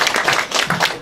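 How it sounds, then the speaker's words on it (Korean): An audience at a local district event clapping, a brief burst of hand claps with a few distinct beats, close and fairly loud, lasting about a second. "박수 한번 칩시다."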